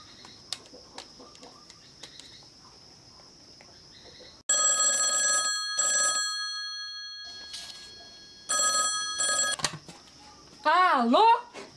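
A bell telephone rings in bright, bursting metallic trills, several separate rings with pauses between, loud and near, alongside talking voices.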